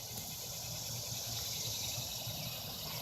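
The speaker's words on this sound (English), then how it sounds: "So you got the two species of cicada here." A dense, steady high-pitched buzzing of two cicada species fills the night, continuous and unvarying, with a faint low hum beneath.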